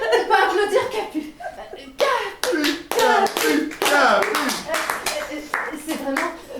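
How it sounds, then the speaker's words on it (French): A few people clap at a corporate event, scattered close hand claps mixed with laughter, chuckles and talking voices, including a child's. "Je crois que là, on peut applaudir Capu"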